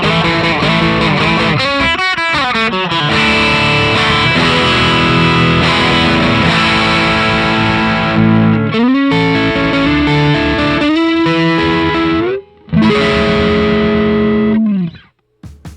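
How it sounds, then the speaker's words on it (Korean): Electric guitar played through a Fulltone OCD overdrive pedal, giving a natural, thick tube-amp-like drive as chords and sustained notes ring out loud and continuous, with brief gaps near the end. "OCD는 튜브 앰프를 연상시키는 사운드에 내추럴하면서도 기름진 드라이브 페달이죠."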